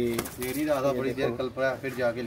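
Young pigeons coo in soft, repeated rolling calls close by, overlapping with someone talking.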